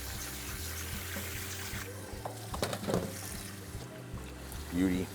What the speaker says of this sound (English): we're gonna wash our mushrooms. A lot of times with the chanterelles, I like to just kind of float them in some water